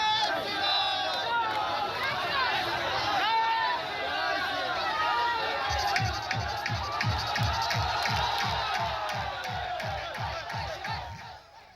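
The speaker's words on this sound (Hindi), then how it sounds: "जय श्री राम के नारे लगाते सैकड़ों लोगों की भीड़ शहर की सड़कों से गुजरी" Hundreds of people crowd a city street during a Ram Navami procession, a dense roar of shouting voices and chanting, with rhythmic repeated call-like bursts building in the second half before fading slightly at the end.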